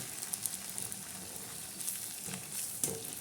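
Moong dal bhaje frying in hot oil, a quiet, steady sizzle with occasional soft pops and crackles, heard on its own without talk.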